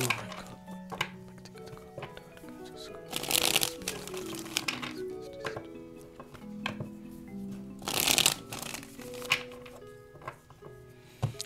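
Tarot cards get shuffled close up in two brisk riffling bursts, with softer card handling, taps and slides between them, while a quiet tonal background runs underneath.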